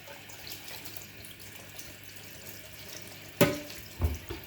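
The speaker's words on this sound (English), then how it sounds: "So we're just going to run this jar under the tap." Water runs from a kitchen tap over a glass jar in a steady, soft stream, followed by a sharp splash and a couple of clunks as the jar moves under the flow.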